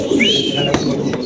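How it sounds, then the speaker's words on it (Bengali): A large Runt pigeon coos close by, one soft low rolling call, with a brief chirp from another bird above it and no talk. "মাশাআল্লাহ খুব সুন্দর একটা কবুতর দেখতে পাচ্ছেন,"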